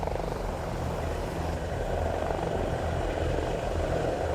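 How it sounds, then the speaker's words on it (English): A police helicopter lifts off during a Highland search for missing climbers, its rotor and engine making a loud, steady droning roar that stays close and constant throughout. "We're just going to wait for the helicopter to take off"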